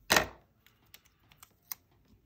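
Scissors cutting paper planner pieces at a desk: one louder snip followed by several faint, quick clicks and cuts, close and quiet with no talking.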